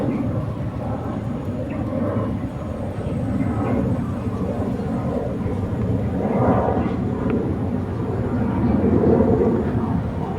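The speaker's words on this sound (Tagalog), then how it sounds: "May aeroplano." A passing airplane overhead makes a broad, continuous rumbling roar that swells and fades slightly over several seconds, with faint voices in the background.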